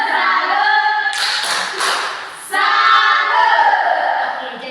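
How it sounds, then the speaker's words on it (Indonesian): A classroom breaks into brief applause for a student, claps heard amid voices and chanting, quick and close. "Tepuk tangan dulu untuk Jerin"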